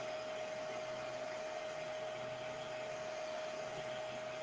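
A heat gun on its low setting blows with a steady, even airy rush and a faint constant whine, running unbroken at moderate level with no voices.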